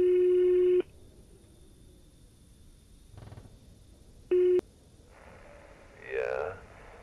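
Telephone tones sound in The Greyhill Incident video game: a loud steady electronic tone, a quiet pause, then a second short burst of the same tone, with a faint noise near the end.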